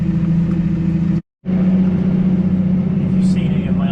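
A 250-horsepower New Holland T7 250 tractor hauls a Claydon drill across a field with a steady, deep engine drone that briefly drops out before resuming its constant rumble.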